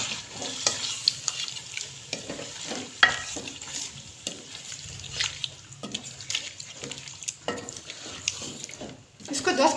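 Chicken and yogurt are stirred together in a karahi for angara karahi, producing close, uneven scraping strokes over a low sizzle. There are occasional wet splashes.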